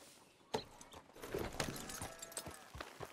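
Horse hooves clip-clop in Red Dead Redemption 2 as the mount is pushed into a rush, a quick uneven run of sharp hoof strikes with no talk over them.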